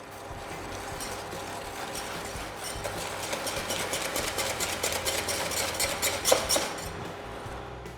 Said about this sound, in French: Je blanchis l'ensemble à l'aide d'un fouet.